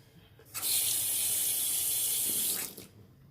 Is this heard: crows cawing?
no